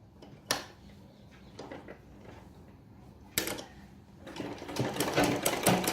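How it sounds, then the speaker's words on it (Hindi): Sewing machine stitching a folded salwar waistband casing, short bursts of rapid needle clatter separated by pauses, then a longer continuous run near the end, close and moderately quiet. "यही सिलाई पे एक बार और सिलाई लगाएंगे पूरा गोल।"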